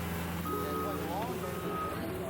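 A truck being moved near a house and carport on a driveway job, sounding its backup alarm in steady tonal beeps over a continuous engine drone, with voices faintly mixed in.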